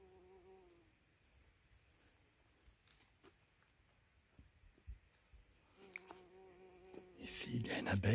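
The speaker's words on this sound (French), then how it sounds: "Ici, il y a une abeille un peu bruyante." Faint buzzing of a bee among rudbeckia flowers in a meadow drones on and off, growing louder and closer toward the end with some rustling.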